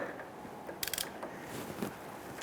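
Lower bolts on the rear ABS tone ring of a 2005-2010 Chrysler 300 being snugged down by hand tool, giving faint, scattered metallic clicks and a few brief ratcheting bursts over low background noise.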